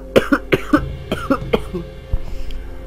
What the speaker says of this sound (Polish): Na odcinku mogę jeszcze tak kaszleć właśnie